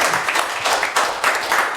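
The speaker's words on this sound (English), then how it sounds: "Let's clap it up." An audience claps in a theater in Brooklyn, a dense, continuous patter of many hands with small swells, loud and close, with no voices over it.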